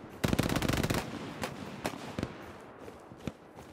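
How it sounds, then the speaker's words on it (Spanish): Machine gun firing in a video game: a loud rapid burst near the start, followed by scattered single shots and short bursts that fade out, with no talk. "Es una ametralladora."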